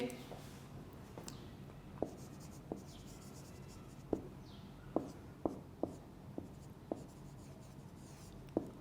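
A teacher writes notes for students, making a series of crisp, separate taps and short strokes at an irregular pace, fairly close and clear over a quiet room.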